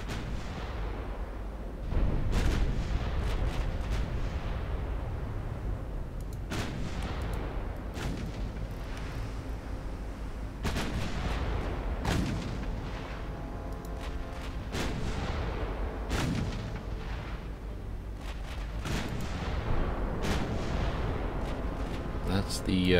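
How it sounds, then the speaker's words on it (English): Broadsides from 9-inch naval guns in Ultimate Admiral Dreadnoughts boom again and again at irregular intervals. Each heavy blast fades into a rumbling tail over a constant background of game noise, and someone talks over it. "Their 9-inch guns go bang."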